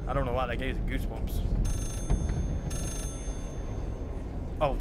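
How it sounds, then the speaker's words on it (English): A telephone rings in the horror video game Layers of Fear, two short bursts of bright electronic ringing separated by a pause, set against low ambient rumble with a voice talking nearby. "Oh, that's the phone."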